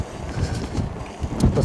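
Strong wind buffets the microphone while riding a Cyrusher Roam e-bike outdoors, giving a loud, rumbling, uneven roar with gusty surges and no voices.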